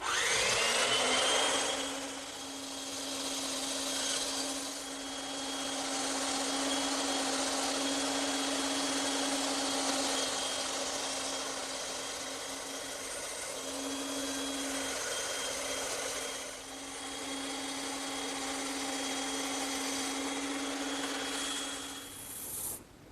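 A bandsaw runs steadily with a loud broadband whine and a constant low hum as a wooden corner piece for a chest on chest is fed through at 45 degrees in a cradle, the cut continuing for over twenty seconds without talk.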